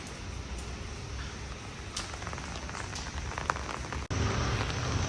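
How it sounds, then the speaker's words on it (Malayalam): Steady rain falls outdoors near a hostel, a continuous close hiss of drops on surfaces with a few sharper patters, and no voices. "നല്ല മഴയുണ്ട്, എന്നാലും പോവാതിരിക്കാൻ പറ്റില്ല."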